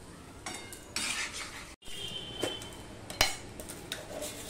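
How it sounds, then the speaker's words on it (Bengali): Potato and poppy seed curry stirred with a spoon in a pan: soft scraping and clinks of metal against the pan, several distinct strokes with a faint sizzle underneath, close and fairly quiet. "দিয়ে সম্পূর্ণটা ভালোভাবে আমি মিশিয়ে দেব।"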